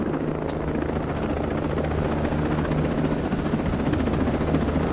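A helicopter in Ghost Recon Breakpoint drones on continuously, a steady loud rotor rumble with a throbbing low beat and no break across the whole stretch.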